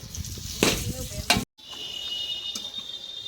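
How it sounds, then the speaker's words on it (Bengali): Sliced onions hit hot white oil in a pan to fry for beresta, with a few stirring clatters, a brief cut, and then a steady close sizzle. "এবার পেঁয়াজটা দিয়ে দিচ্ছি।"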